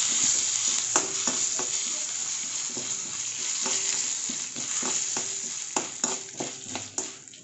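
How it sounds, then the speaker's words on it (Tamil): Lentils, asafoetida and curry leaves are sautéing in hot oil for upma kozhukattai, producing a continuous close sizzle with repeated sharp scrapes and taps of a spoon against the pan, and no voices. "இதை போட்டு நல்லா ஒரு வதக்கிக்கோங்க"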